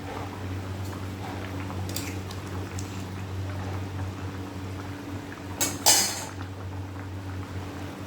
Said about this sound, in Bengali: এই যে মাছের ডিমের বড়ার ঝোল রেডি হয়ে গেছে